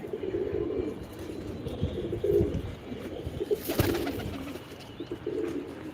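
A pet pigeon cooing softly near a rain-damaged pigeon house, low murmuring calls with a brief flutter, mostly alone with faint background noise.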